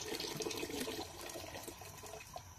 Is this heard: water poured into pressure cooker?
yes